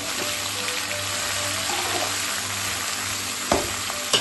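Chopped onion and ridge gourd hit hot oil in a tempering pan and sizzle loudly and steadily up close, with a couple of sharp clinks of a spoon near the end.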